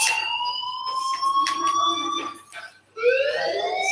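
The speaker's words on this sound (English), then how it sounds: "Hey, do you hear that fire alarm?" A fire alarm rings in the video game Life is Strange, a loud, steady electronic tone that holds, dips briefly near the end, then resumes with no talking.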